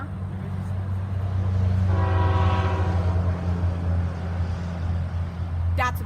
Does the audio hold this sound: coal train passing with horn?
yes